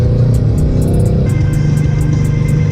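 A 2005 Subaru WRX all-wheel-drive car driven hard, loud engine drone from inside the cabin with a shift in pitch partway through and a rhythmic ticking above it, steady and close, with no talking.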